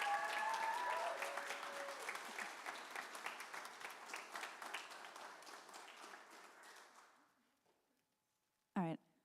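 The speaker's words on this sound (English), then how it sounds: "give one more round of applause to our graduating seniors" An audience at a high school spring choir concert gives a round of applause for the graduating seniors, loud and close, then tapering off into near silence before a brief voice at the end.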